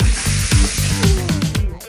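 Small flour-coated wader fish fry in hot oil, a loud close sizzle broken by a series of rhythmic scraping clicks as the pieces are moved around the pan.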